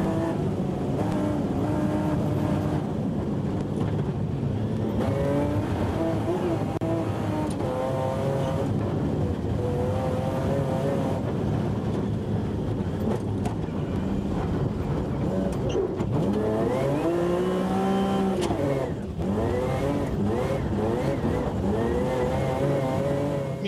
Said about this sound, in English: As you can see, Pihala drove his BMW beautifully and fast roads seemed to suit both the car and the man.